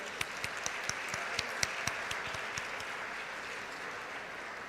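Steady applause from an audience at a university convocation ceremony, dense and sustained throughout, with a few sharper individual claps standing out near the start.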